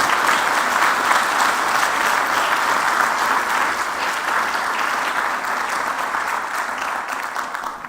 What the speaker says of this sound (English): let's give the Army Chiefs and Commanders a round of applause,